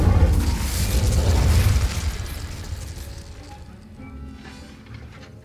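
The Incendio fire spell in the Hogwarts Legacy video game bursts with a loud, rumbling whoosh that stays heavy for about two seconds, then fades to a quieter roar and fizzling tail.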